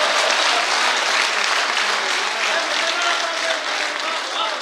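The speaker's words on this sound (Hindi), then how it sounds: "एक बार जोरदार तालियों से इस्तकबाल किया रहा है" Loud, dense applause from the audience at an Urdu poetry recital, a continuous roar of many clapping hands holding steady throughout, with some crowd noise blended in.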